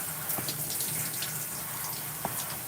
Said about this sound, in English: So I just want to rinse out all the conditioner first,